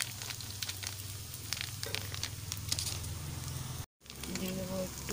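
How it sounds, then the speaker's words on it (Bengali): Bitter gourd frying in oil in a pan: a steady, dense sizzle and patter continues throughout, briefly cut off by a short gap near the end. "উচ্ছেটা ভাজা ভাজা হয়ে গেছে"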